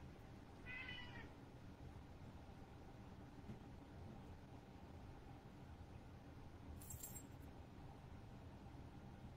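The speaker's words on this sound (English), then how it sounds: "Both cats are just loose, so they can appear at any time." A house cat gives a short, faint meow or two against a steady background hiss, with no talking.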